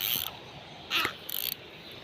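Fishing reel letting out line while lure fishing, a soft mechanical whirring with a ratcheting clicking burst, heard close but fairly faint.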